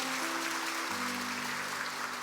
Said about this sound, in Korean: 이주의 박수 한번 주시겠어요?